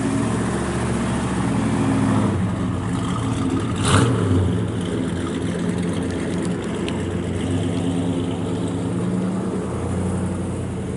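A 1968 Chevrolet Chevelle SS 396 V8 exhaust idles with a lumpy rumble, then briefly revs up and settles back down, loud and close.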